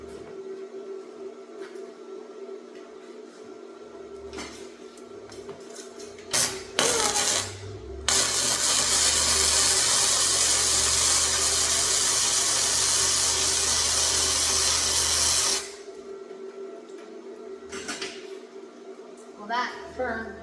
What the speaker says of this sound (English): Now, let's try to weld.